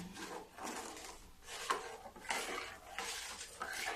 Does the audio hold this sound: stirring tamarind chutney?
yes